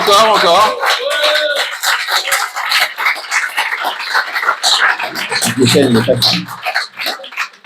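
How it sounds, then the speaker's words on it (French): Scattered audience clapping in a full cultural centre hall welcoming a guest speaker, uneven and mixed with voices and the shuffling of the room, a few louder bursts standing out. "On t'applaudit quand même."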